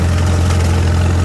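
A Farmall H tractor engine runs steadily in second gear, with a loud, close, continuous low rumble and no other sounds over it.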